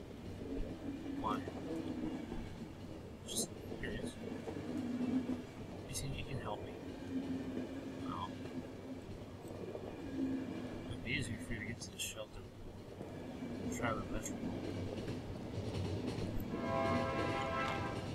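A train rolls steadily along in the video game The Final Station, a continuous low rumbling drone with scattered clanks and electronic blips, while a person talks over it for much of the time.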